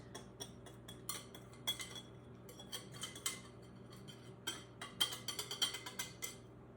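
Dry ingredients being mixed into wet cake batter in a bowl, giving faint, irregular clinks and taps of a utensil against the bowl, scattered across the stretch with no talk.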